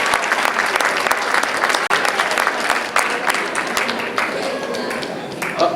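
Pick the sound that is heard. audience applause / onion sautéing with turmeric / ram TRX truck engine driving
audience applause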